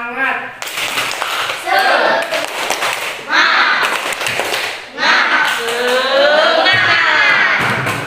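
A class performs a rhythmic spirit clap, bursts of clapping in patterned groups interwoven with loud chanted voices of students and a teacher in a classroom.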